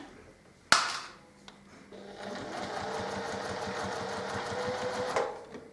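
A sewing machine stitches the binding on a self-binding quilted block mat, running in a steady, close, continuous whir for several seconds after a sharp clack at the start.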